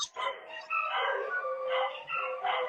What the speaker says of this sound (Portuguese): esses cachorros, eles têm que fazer bagunça bem na hora da nossa live